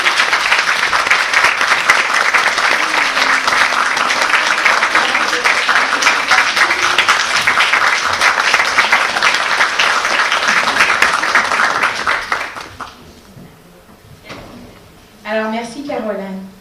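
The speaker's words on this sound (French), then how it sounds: "Je pense que ça mérite bien encore une petite main d'applaudissement." An audience at a women's success and inspiration event gives a long, loud round of applause for speaker Caroline. It holds steady for about twelve seconds and then fades, and a voice starts speaking near the end.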